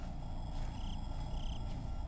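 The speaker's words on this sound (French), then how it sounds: "il y a le chat à côté qui fait du bruit" A cat purrs close by, a steady low rumbling drone that carries through the whole moment, with faint high tones repeating twice in the background.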